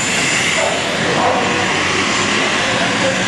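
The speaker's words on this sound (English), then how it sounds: "But got some big plane taking off behind me." A big airplane takes off close by, its jet roar loud, broad and steady for the whole stretch and filling every part of the sound.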